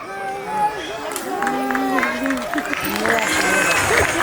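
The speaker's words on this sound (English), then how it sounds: "Big round of applause." Audience applause at a school annual function, a steady crowd clapping and murmuring after a pre-primary class performance, with voices and music tones mixed in over the clapping.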